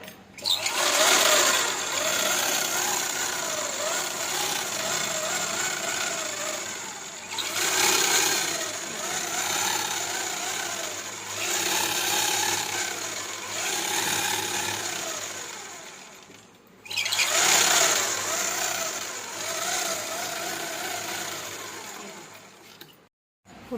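A sewing machine stitches a fall onto a saree in long continuous runs of steady whirring, close and loud, pausing briefly between runs.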